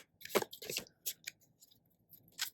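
A tarot card deck shuffled by hand, close and quiet, gives a few soft papery riffles and flicks in irregular bursts with short pauses between.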